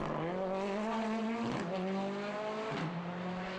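A Ford Fiesta R5 rally car on a stage of the Rallye de Wallonie, engine revving hard with rising pitch and gear shifts at a distance, tires faintly squealing.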